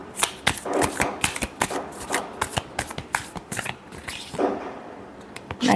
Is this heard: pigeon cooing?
no